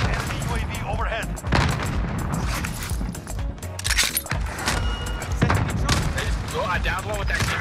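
Bursts of K4 automatic rifle fire in Call of Duty Warzone, repeated sharp cracks and rapid volleys mixed with distant booms, loud throughout, with voices talking over the shooting.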